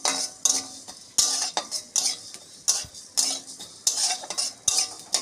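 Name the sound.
dry-roasting fennel, coriander and cumin in empty pan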